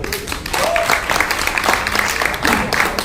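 An audience at a live mimicry comedy show claps loudly and continuously, dense applause with crowd noise throughout.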